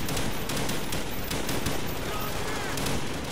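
Dense, continuous gunfire from the campaign of Call of Duty Black Ops 1, with rapid shots and bursts running loud and unbroken throughout, close and layered.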